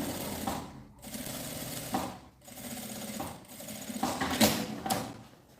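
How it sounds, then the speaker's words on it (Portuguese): A sewing machine stitches fabric along a zipper for a cylinder-shaped pouch, running in several short close bursts separated by brief pauses, with no talking. "agora vou costurar do outro aqui, ó"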